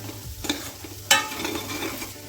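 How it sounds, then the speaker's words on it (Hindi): Spices are mixed into dal for aloo tikki, giving a few close scraping and stirring strokes with one sharper knock midway, brief and without talk. "अब इनको करेंगे अच्छे से मिक्स मसालों को।"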